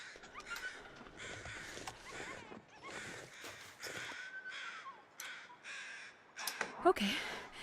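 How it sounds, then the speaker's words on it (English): Crows caw repeatedly in The Long Dark, a string of harsh, fairly loud calls spaced through the scene, with someone talking alongside them. "there are crows up there, but I think they're flying over a deer carcass"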